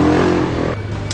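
A scooter engine revs loudly and close during a stunt jump, a brief rising mechanical roar that drops away, heard alone.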